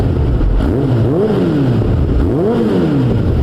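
Kawasaki ZX-10R motorcycle with an Akrapovic exhaust revs twice in quick blips, engine pitch rising and falling over a constant idle rumble, close and loud.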